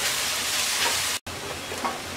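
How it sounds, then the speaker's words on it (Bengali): Onion frying lightly in a pan gives a steady, close hiss and sizzle that cuts out for an instant midway, then continues. "এবার পেঁয়াজটাকে হালকা ভেজে নেব।"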